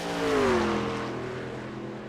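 A damaged race truck at Kentucky Speedway drones past without full power. Its engine note swells and then slides lower as it moves away.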